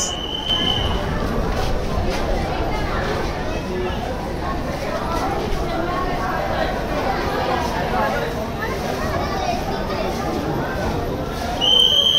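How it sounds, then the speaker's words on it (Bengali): The Puri–Sealdah Duronto Express (22202) rumbles steadily into a station with wheel squeal and a crowd chattering around it, continuous and fairly loud throughout. "এই কিন্তু ট্রেন আমাদের স্টেশনে দিচ্ছে। দেখুন, পুরী শিয়ালদা দুরন্ত এক্সপ্রেস।"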